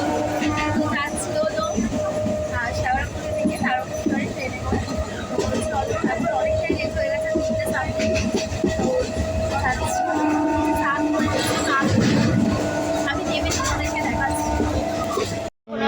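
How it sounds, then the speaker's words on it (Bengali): Interior of a moving passenger train on a trip to Tarakeswar, a continuous rumbling clatter of wheels and carriage with steady droning tones and distant crowd chatter throughout. "আমরা ট্রেনেই রয়েছি"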